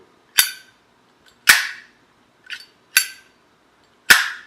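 A Zippo lighter lid flicks open and snaps shut several times, each a bright metallic ping ringing briefly, close and crisp in a quiet room.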